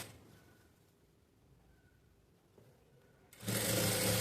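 A sewing machine stitches a quarter-inch seam along a blouse neckline. It is quiet at first, then a loud, steady whir starts near the end and keeps running.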